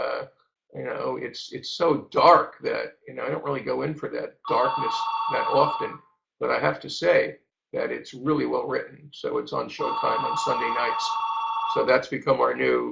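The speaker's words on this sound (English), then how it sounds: "Sorry for the phone ringing." A telephone rings twice in an indoor interview setting, its steady bell tone sounding in two bursts beneath continuous talk.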